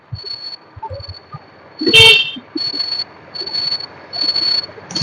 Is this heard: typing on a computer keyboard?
no